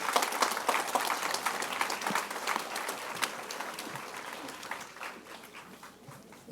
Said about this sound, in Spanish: dale tu mejor aplauso al Señor Jesucristo.